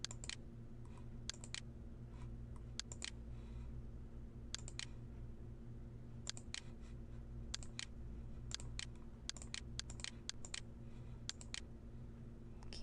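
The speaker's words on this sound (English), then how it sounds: "I'm going to type something" Keys click on a POS cash register keyboard in faint, scattered taps, some coming in quick clusters, over a steady low hum with no talking.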